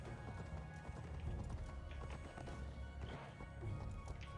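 Hooves of a video-game horse clip-clop steadily as it climbs steep terrain, a continuous stream of muffled steps with occasional heavier thuds, fairly faint with no voices.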